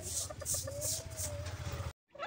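Pet chickens cluck softly and repeatedly while eating their feed, close by, with one drawn-out call partway through and a low background hum.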